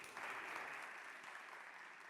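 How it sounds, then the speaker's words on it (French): Faint audience applause for a female contestant at a high-school talent show, a sustained even patter of many hands clapping that holds steady for a couple of seconds. "Applaudissez pour elle, s'il vous plaît"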